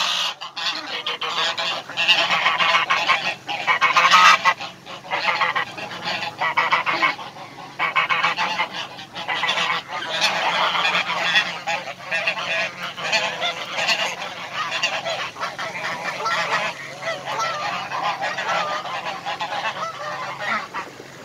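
A loud, dense chorus of ducks honking and calling continuously, many birds close by, with no talking.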